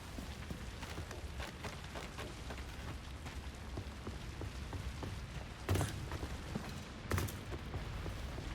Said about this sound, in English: Like I can hear the rain sometimes